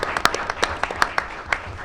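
Audience applause at a Murray State community event marking the move to the Missouri Valley Football Conference, heard as a short burst of scattered, moderately loud claps with a few sharper individual hand claps standing out.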